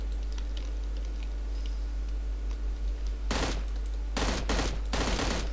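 Automatic gunfire in the mobile shooter game PUBG Mobile: after a quiet stretch of faint clicks, one sharp burst breaks out, then several longer rapid bursts follow close together, loud and near.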